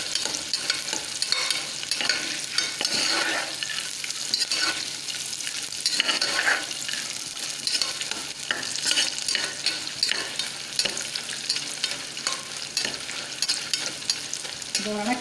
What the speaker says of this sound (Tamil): அதனால் நல்லா சவக்க வறுத்துக்கோங்க